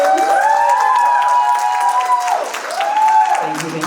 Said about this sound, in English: let's give it a round of applause for Chef Carlos.